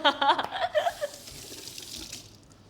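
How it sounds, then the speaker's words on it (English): Hands are washed under a running kitchen tap before a fish is filleted: a brief spatter of water that starts loud and gurgling, then settles into a softer steady stream. "before that we need to wash our hands"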